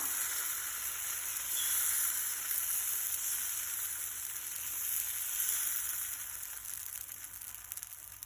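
Adai lentil batter frying with oil drizzled around its edges on a hot griddle, producing a steady, close, hissing sizzle that holds evenly and eases slightly toward the end, no talk.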